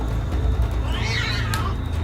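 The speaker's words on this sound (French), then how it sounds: "c'est un chat." A cat gives a single short meow inside a warehouse, heard briefly over a low background hum.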